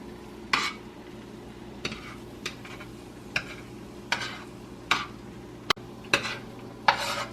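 Nut-stuffed dates cook in a pan, turned and flipped with a utensil; about ten sharp scrapes and clinks against the pan come at irregular intervals over a low, steady sizzle.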